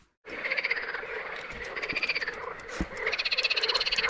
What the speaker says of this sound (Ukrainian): Жаби кричать так, що я себе не чую.